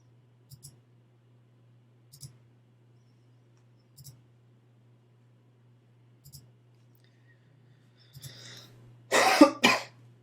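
Two sharp, close coughs break out near the end of a quiet stretch during a tabletop card game match, preceded by a few faint, evenly spaced clicks.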